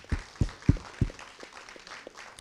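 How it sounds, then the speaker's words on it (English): A conference audience at a session on market regulation and democratic principles gives a short round of applause, with several strong claps up front thinning into scattered, fading clapping. "I think that deserves another round of applause."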